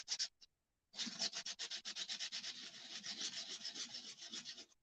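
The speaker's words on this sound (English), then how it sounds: "So I'm just going to rub it on my 220 grit sandpaper." Birch wood rubbed back and forth on 220 grit sandpaper, a steady run of rasping strokes after two short opening passes and a brief pause, close and fairly quiet.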